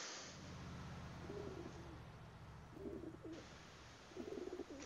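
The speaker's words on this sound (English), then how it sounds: "I heard a pigeon." A pigeon coos in GTA IV, three soft throaty coos spaced across a few seconds over a quiet city hum, faint and somewhat distant.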